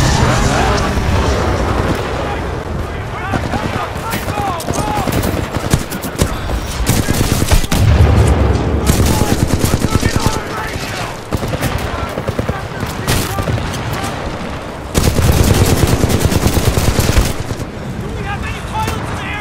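Continuous gunfire and bursts of automatic weapons fire with booms from Titanfall 2 campaign combat, loud and dense throughout with brief dips, mixed with game effects and occasional talk.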